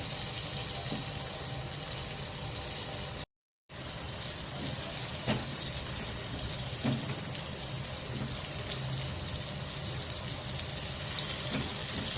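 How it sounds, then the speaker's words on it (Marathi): Prawns fry in hot oil over a medium gas flame with a steady, loud, dense sizzle and crackle that runs throughout, broken once by a brief moment of silence. "आपण हे तळून घेणार आहोत तेलामध्ये"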